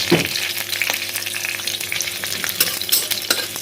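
Onions go into a pan of hot oil after chillies and fry with a dense, steady sizzle, mixed with irregular clatter and scraping from stirring.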